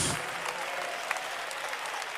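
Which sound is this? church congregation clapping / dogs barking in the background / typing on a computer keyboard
church congregation clapping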